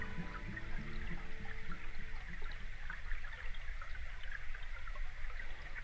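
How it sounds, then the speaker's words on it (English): Stormwater runoff pouring into the Dyarubbin river, captured underwater as a steady, rushing wash of trickling water with faint bubbling, even in level and fairly quiet. "We're listening to the underwater sound of Dyarubbin,"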